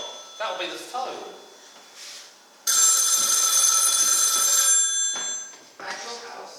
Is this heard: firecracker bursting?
no